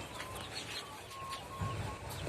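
Chickens cluck and chirp softly in a backyard coop shared with ducks, a steady murmur of birds with a faint background hum.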